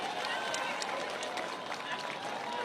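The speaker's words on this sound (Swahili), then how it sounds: "Tumpigie makofi huyu" A crowd at a ceremony in Kenya with the president present claps in a dense, continuous patter of applause throughout, with faint talk mixed in.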